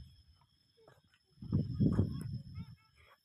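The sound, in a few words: ducks quacking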